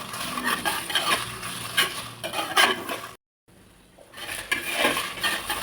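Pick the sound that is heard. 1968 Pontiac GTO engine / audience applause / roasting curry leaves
roasting curry leaves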